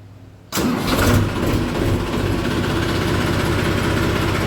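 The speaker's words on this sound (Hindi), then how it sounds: "वाह क्या शानदार आवाज है मैसी की।" A Massey tractor engine cranks and catches after a brief quiet moment, then settles into a loud, steady, rumbling idle close by.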